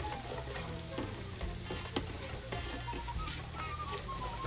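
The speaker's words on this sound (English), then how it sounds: "So we're gonna be sauteing that" Chicken sautéing in a pan with teriyaki marinade, giving a steady sizzle and frying crackle with occasional stirring scrapes, close and continuous throughout.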